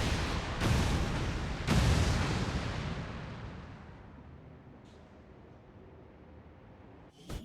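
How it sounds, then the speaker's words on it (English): Explosive charges detonating in the video game XCOM 2, two heavy booms in quick succession near the start that decay into a long fading rumble. "all we need to do is plant the X4 charges."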